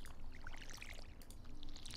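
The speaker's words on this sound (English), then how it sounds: "now I need to water it all so that they will grow" Water poured from a watering can onto freshly planted crops in Stardew Valley, a soft splashing trickle with sparkly droplet sounds that swells, dips briefly and swells again over two seconds, heard alone.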